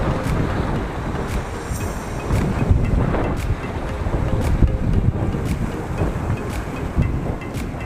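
Strong sea waves and gusty wind at Malagundi Point in Lobo, Batangas, a steady roaring wash of surf with heavy wind buffeting the microphone and faint periodic clicks.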